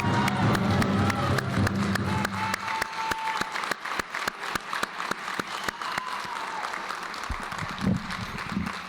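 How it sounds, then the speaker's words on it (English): Audience applause at an Indigenous high school graduation, starting as a dense clapping wash and thinning into scattered, distinct individual claps as it fades, with a low rumble of crowd noise underneath. "Can we give these graduates a big round of applause"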